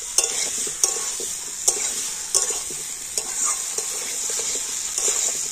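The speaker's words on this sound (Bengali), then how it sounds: "মশলার সাথে আলু আর কুমড়োটা আবার একটু আমি নাড়াচাড়া করে নিচ্ছি" Fried potato and pumpkin being stirred into cooked spice paste in a pan for a fish roe dish, with close, repeated scraping strokes over a steady sizzle and no talking.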